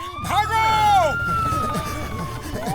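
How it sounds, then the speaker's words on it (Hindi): Police siren in a Motu Patlu cartoon wails loud and close, rising and falling, as a voice shouts at the start. "पुलिस का सायरन सुन के पैर अपने आप भाग चले।"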